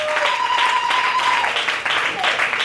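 A church congregation at a Sunday service applauds and acclaims God, with a continuous wash of clapping and raised voices under a sustained tone, fairly loud and close.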